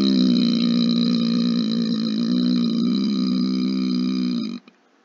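A long, sustained closed-mouth burp with a deep, steady rumble, loud and close, held for over four seconds before cutting off abruptly. No one speaks.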